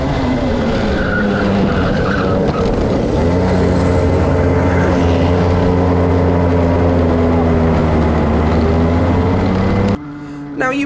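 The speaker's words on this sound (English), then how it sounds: "now you might have just been able to hear me over the sound of the engine." A Club 100 racing kart engine drones loud and steady at high revs through a race, a continuous buzzing roar that shifts pitch partway through and cuts out abruptly near the end.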